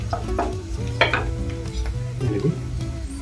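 Ground paste is stirred into frying onions in a pan, with steady sizzling and soft scraping of a spoon against the pan, a few sharper clinks standing out, close and moderate in volume with no talking.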